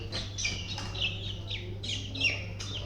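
Newly hatched peacock chicks give repeated high, thin chirping calls in quick bursts over a low steady hum, close and faint.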